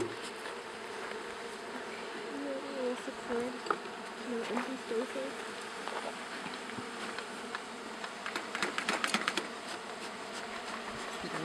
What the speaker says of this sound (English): you're going to have bees all over the place